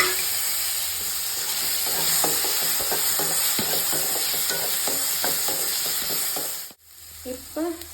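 Ingredients for a turkey berry (sundakkai) chutney fry in a pan with a loud, continuous sizzle and hiss, while a spoon scrapes and stirs in quick, repeated strokes close up. The frying cuts off abruptly near the end, followed by a few faint knocks.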